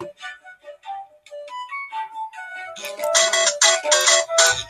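A phone ringtone plays a bright electronic melody of stepped tones, first sparse and then fuller and louder, close and alone with no talk over it.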